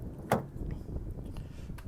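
The power rear liftgate of a 2013 Toyota Sequoia Limited SUV gives a sharp mechanical clunk near the start, then a quieter steady whir and faint rattles as it moves.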